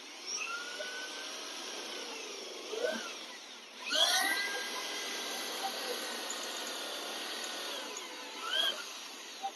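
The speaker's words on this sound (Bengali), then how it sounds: "এগুলোকে প্রপার মার্কিং অনুযায়ী এগুলোকে ফুটো করে নিচ্ছে, যাতে জিনিসটা প্রপার থাকে।" A power drill bores holes in a car bumper for a rear parking sensor and camera, a sustained whining motor with pitch shifting as it loads and releases, close and fairly loud, with brief surges as each hole goes through.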